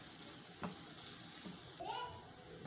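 Chicken samosa filling with finely chopped green chili sizzles steadily in a pan as it is stirred, the frying hiss constant with a few soft scraping strokes of the spoon.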